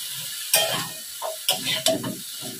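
Fried prawns tossed into a hot pan for a chochchori, a few loud clattering drops and scrapes over a low sizzle.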